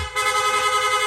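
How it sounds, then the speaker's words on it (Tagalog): A short, loud aftermarket rapid horn on a Gixxer 150 motorcycle honking in quick repeated pulses, a rapid warbling beep. "hindi lang po basta loud horn, nag-install din tayo ng rapid horn"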